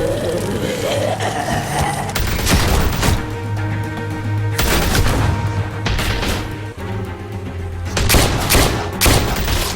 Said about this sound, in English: Just fire a bunch of bullets and hope that one of them hits something.